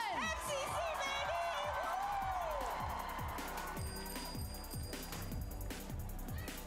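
A live TwitchCon convention audience cheers and whoops, the shouting loud at first and then settling into a sustained crowd roar with scattered yells.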